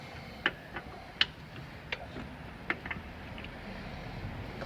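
A torque wrench clicks several times as wheel bolts are tightened on a Citroen C1 during a brake pad swap, with sharp, separate clicks over a quiet background.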